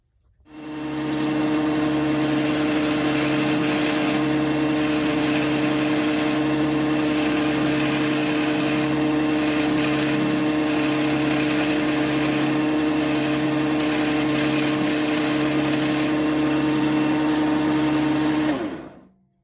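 A metal lathe turns down a jig, running with a steady high-pitched hum and whine that holds without a break for almost the whole span, starting and stopping sharply, with no talking.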